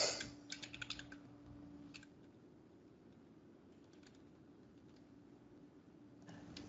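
Keys clatter in quick bursts on a computer keyboard during a Photoshop flyer design tutorial, short flurries of clicks at the start and again near the end with quiet gaps between.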